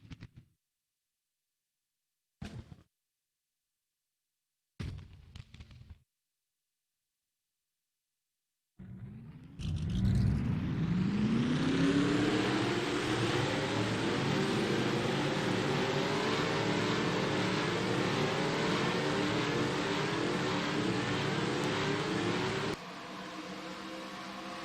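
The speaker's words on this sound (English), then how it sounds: "Drivers, start your engines." Race car engines in a stock car racing video game at Kansas fire up together after a few short bursts, rising into a loud, sustained multi-engine roar that holds steady before dropping slightly near the end.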